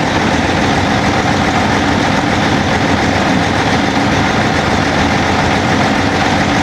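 Cummins ISX diesel engine runs loud and close as fuel pressure climbs, a dense steady idle roar with no change in rhythm and no voices.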